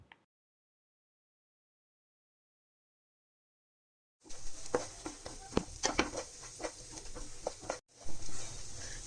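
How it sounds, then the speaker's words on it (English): Rice sauteing in a pan on a low flame for rice pudding, a soft steady sizzle with scattered light scraping and stirring clicks, close up, following a few seconds of silence. "Saute rice also until you see the change in color."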